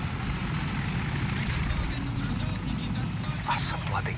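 Helicopter in Call of Duty 4, a steady low rotor drone throughout with a few brief higher clicks and effects near the end.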